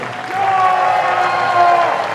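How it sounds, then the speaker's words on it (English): A gymnasium crowd claps for the concert band at a school band concert, the applause swelling after a brief softer start and holding steady under a lingering tone. "Round of applause for the concert band."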